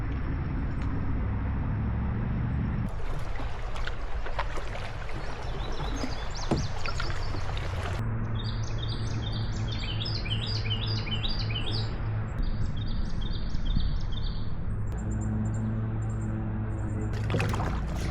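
A canoe is paddled with a kayak paddle on a river, with soft water strokes and splashes under steady outdoor ambience and frequent bird chirps and tweets around.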